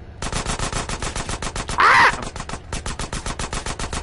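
Rapid automatic gunfire in GTA San Andreas, loud and close, a steady stream of bursts running through the whole stretch with one brief louder blast near the middle.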